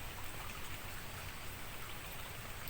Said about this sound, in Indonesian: Hujannya agak gerimis lagi. Hujan gerimis